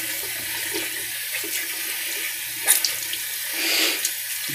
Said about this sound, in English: All right, now cold water rinse